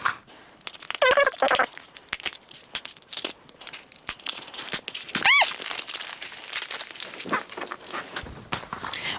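Crinkly plastic packaging around a collectible figure is unwrapped with continuous close crackling, rustling and tearing. A brief high squeal sounds midway through.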